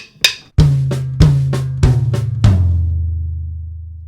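A drum kit fill: a sharp snare hit, then a series of resonant tom strikes from high tom to medium tom stepping downward in pitch, the final tom ringing out and decaying.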